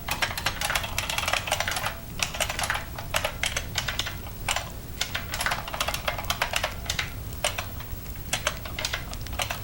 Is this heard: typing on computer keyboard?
yes